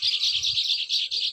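Birds nesting inside an old farm well give rapid high chirps, about eight short bright notes in quick steady succession, clear and close with nothing else behind them.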